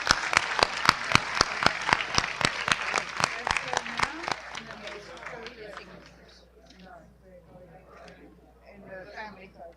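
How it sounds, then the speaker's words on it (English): Audience at a biodiversity summit signing ceremony claps in sharp, distinct, rhythmic claps for about four seconds, then the applause fades into a murmur of talking voices. "giving them a round of applause"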